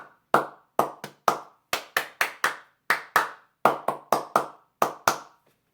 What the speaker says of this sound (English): I will clap out a pattern and the students will repeat the pattern.